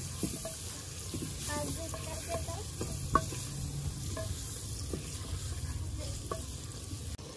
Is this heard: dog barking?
no